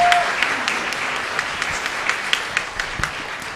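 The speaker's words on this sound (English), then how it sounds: "So I forgot to give the applause, acknowledge our soloist, Isaac Young" An audience at a church Advent Tea gives warm, sustained applause for a soloist, a steady patter of many hands clapping at moderate volume.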